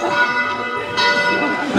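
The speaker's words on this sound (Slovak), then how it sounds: "akurát sa teraz ozvali zvony z kostola, ktorý stojí tesne pred domom" Church bells ring from the church standing just in front of the house, clear tones ringing out near and loud while people talk over them.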